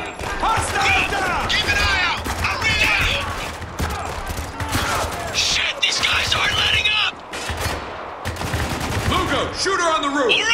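Dense gunfire rattles in the shooter game Spec Ops: The Line during a fight against rooftop snipers, with loud rapid bursts and weapon mechanism clicks layered under shouted voices.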